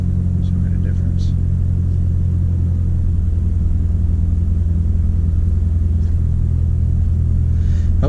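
A 2016 Ford Focus RS with a Mountune rear motor mount idles with a steady low rumble, close and constant, with a few faint clicks above it.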